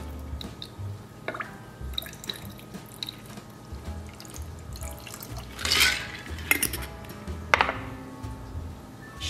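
A bee's knees cocktail of gin, lemon juice and honey syrup poured over one round ice cube, heard as quiet trickling and dripping with a couple of brighter glassy splashes midway.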